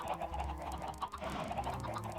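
A flock of Minecraft chickens clucks in overlapping, soft, continuous chatter, fairly faint and close, with no one talking.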